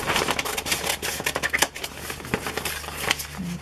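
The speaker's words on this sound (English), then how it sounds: "I'm going to take my Tyvek envelope and cut it down where the seam is." Scissors cutting along the seam of a Tyvek envelope, a close series of crisp snips with crinkly rustling between cuts and no talk.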